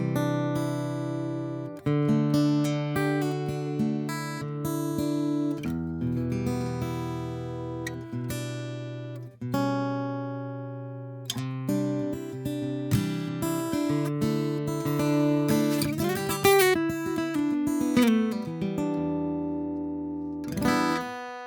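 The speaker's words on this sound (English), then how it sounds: "So let's check out the sound of this pickup" A Faith acoustic guitar plays through its pickup, clear plucked notes and strummed chords ringing with sustain in a continuous solo passage, with no talking.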